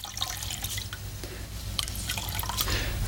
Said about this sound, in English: And so you wring it out in this cold water